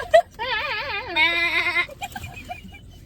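A person imitates a goat, giving a wavering, vibrato bleat that holds for over a second and rises into a strained, quavering cry before breaking off, loud and close, followed by a few soft murmurs.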